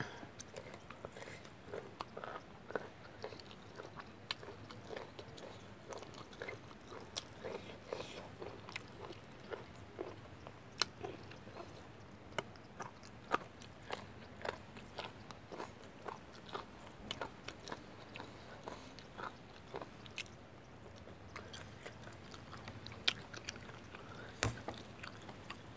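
Someone crunches and chews pounded bamboo shoot salad with pork head up close, repeated crisp bites and wet chewing in an uneven rhythm, quiet overall.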